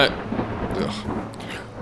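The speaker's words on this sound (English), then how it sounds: "there's actually a huge storm right now. I don't know, it must be coming through the microphone." A huge thunderstorm comes through a microphone as a low rumbling wash with rain-like hiss, steady and moderately faint beneath someone talking.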